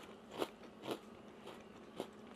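Several crisp crunches as a piece of dry, brittle freeze-dried sweet potato is bitten and chewed, close to the ear, spaced about half a second apart.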